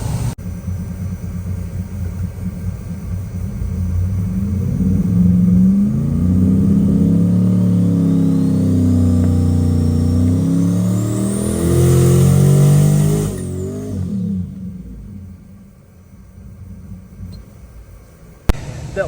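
Twin-turbo LS engine on a dyno, roaring loudly as it revs through a sustained pull with rising and wavering pitch, then cutting off sharply into a quieter fading tail.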